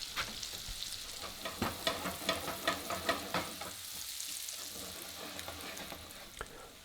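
Black pudding, Normandy style, frying in a pan with apple slices alongside, a steady close sizzle with repeated soft scraping and stirring knocks in the middle, then quieter crackling.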